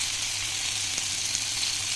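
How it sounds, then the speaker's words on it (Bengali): Bitter gourd frying in a pan of oil for a Bengali shukto, giving a steady close sizzle with a faint stir-like tap near the middle. "তো উচ্ছেটা আগে ভেজে নিচ্ছি।"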